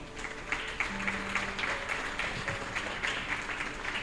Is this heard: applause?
yes